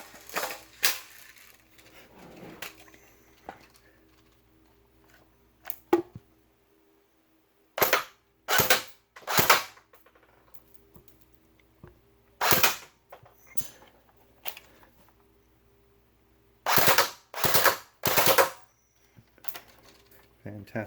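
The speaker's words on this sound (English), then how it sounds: "throw in a mag and try out." Elite Force Umarex G36C airsoft gun with a freshly assembled v3 gearbox firing in short bursts, sharp mechanical snaps in clusters with pauses between, close by over faint room noise and some quiet handling.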